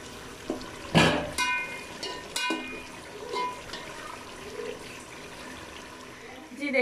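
Water is poured into a pot of washed rice for vegetable pulao in a home kitchen, splashing and trickling in uneven bursts with a few clinks of utensils.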